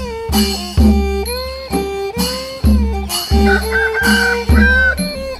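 Chickens in a rural village in Mondulkiri, Cambodia, cluck and crow close by in a rapid series of loud, pitched calls.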